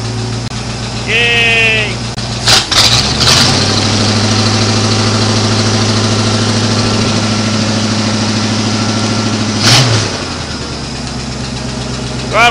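A sawmill engine cranks with a brief burst and catches, then idles at a steady, loud, low rumble for about ten seconds before a second surge near the end; a voice cheers briefly over the engine.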